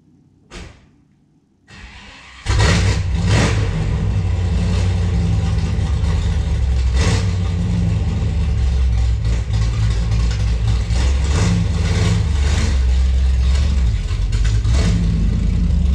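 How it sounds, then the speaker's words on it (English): A 1964 Dodge Polara with a 440 V8 cranks and fires up after a couple of seconds of quiet, then settles into a loud, steady, rumbling idle close by with a few brief blips over the following stretch. "And I'll fire it up, back it out, give a walk around"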